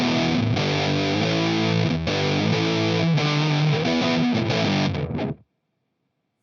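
Electric guitar played through an Electro-Harmonix Deluxe Big Muff Pi fuzz pedal set to a dark tone: thick, saturated sustained chords and notes ring loudly for about five seconds, then cut off into silence.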